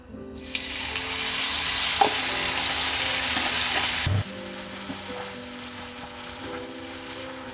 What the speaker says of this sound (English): It's time to fry our liver in a hot oil